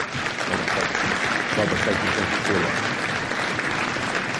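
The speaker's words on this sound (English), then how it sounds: "Give Goody a round of applause for helping me out." Steady audience applause at a motivational leadership event, dense clapping from a crowd filling the whole stretch, with voices faintly mixed in beneath it.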